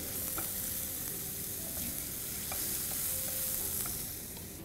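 Rice ingredients fry in a pan for risotto rice balls as a pinch of salt is mixed in, giving a continuous soft sizzle with scattered light stirring scrapes and taps.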